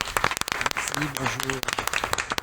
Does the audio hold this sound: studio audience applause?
yes